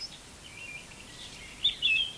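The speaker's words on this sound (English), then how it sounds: "The blackbird is looking for food for his babies." Brief high chirps and whistled calls of a blackbird, a couple of short bursts near the end, faint against quiet outdoor background.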